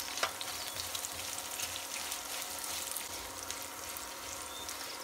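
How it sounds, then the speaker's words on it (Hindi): Garlic and ginger roast in a pan on a very low flame for a dry chutney, with chilies added, giving a faint, even crackling sizzle and one small knock early on, no voices. "अदरक डालने के आधा मिनट बाद हम डाल देंगे ये दोनों मिर्ची।"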